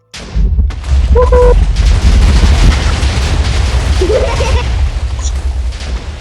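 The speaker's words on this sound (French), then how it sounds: "Carrément, ça a explosé dans ma maison." A TNT explosion inside a house in Minecraft during a build battle, a loud sustained blast rumble filling about six seconds after an abrupt start, with no talk over it.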